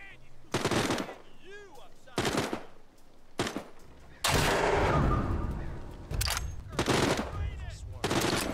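Several loud bursts of gunfire from a gun in The Walking Dead Saints and Sinners Aftershock VR game, separated by short gaps, with a voice heard between the shots.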